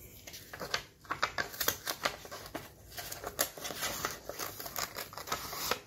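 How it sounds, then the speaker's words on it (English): Scissors snipping carefully through a decorated scrapbook or junk journal page, a quick irregular series of crisp close cuts and paper rustles with no talk. "So I'm gonna very carefully cut up my page."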